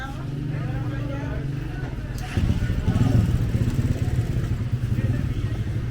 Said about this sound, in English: A lot of moped drivers.